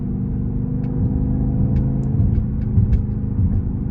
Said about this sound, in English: there's nothing like a twin turbo V8, and it just sounds really, really amazing